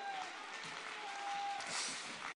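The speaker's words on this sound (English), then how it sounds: "Clap your hands unto God." A church congregation claps and shouts during a lively Apostolic worship service, a dense wash of hand claps sustained throughout and swelling near the end, with a faint tone running beneath.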